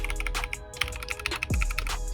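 Rapid close-up keystrokes clatter on a Redragon K552 Kumara mechanical gaming keyboard during a typing test, with an uneven rhythm of crisp clicks and a few heavier thocks, no talk over them.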